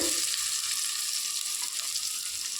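Fennel seeds fry in hot oil in a pan as the tempering for a sundal kulambu. A steady, bright sizzle and crackle runs alone and fairly loud throughout.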